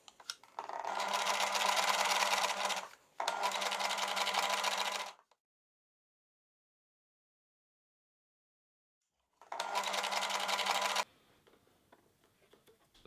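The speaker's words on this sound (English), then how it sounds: "sew over it again with another zigzag stitch" Two bursts of rapid sewing machine stitching as a zigzag stitch runs over an elastic seam, then a long silence and a third burst, each a close, loud, buzzing mechanical chatter.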